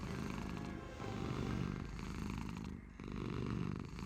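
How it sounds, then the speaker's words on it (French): A snoring cartoon cat in the Hogwarts Mystery video game makes a continuous, rhythmic purring snore that fills the clip steadily and fairly loudly, with no talking. "enlevez-moi cette animation de chat qui ronfle, c'est horrible"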